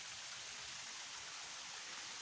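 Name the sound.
trickling water on a mountain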